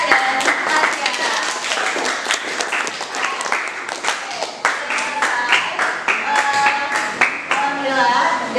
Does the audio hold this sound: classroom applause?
yes